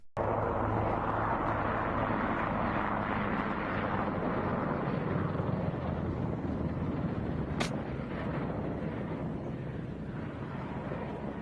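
Broadband roar of a C-130 airplane landing in the desert and spraying sand, a steady wash of engine and rushing noise with one sharp brief click midway, fading slightly at the end.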